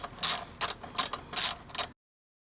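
Ratchet fitted with a 10mm socket loosening two air box bolts on a 2020 Hyundai Sonata 1.6T, heard as close, quick bursts of clicking strokes that stop abruptly.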